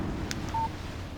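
A phone's text message alert in the Alan Wake video game sounds as a single short electronic beep over a low, steady background rumble.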